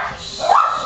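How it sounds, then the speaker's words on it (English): A dog, excited by birds nearby, lets out a short high yip or whining bark, brief and close, with no talking over it. "No barking."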